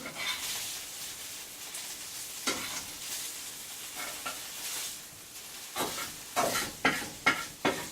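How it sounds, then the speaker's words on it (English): Food sizzles steadily in a hot pan, with sharper scraping bursts as it is stirred, loudest in a cluster of strokes toward the end; no voices. "this is like sizzling too much"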